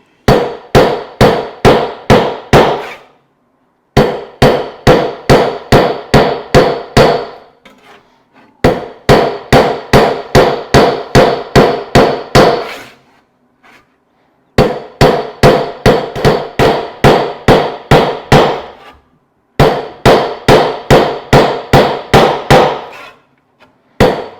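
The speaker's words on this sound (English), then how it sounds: "I'm striking on the heavy part of the anvil" Rapid metallic hammer blows on a bent hand saw blade over the heavy part of an anvil ring out in bursts of about ten strikes each, separated by short pauses, loud and close with a bright clang.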